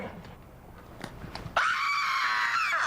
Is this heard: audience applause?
no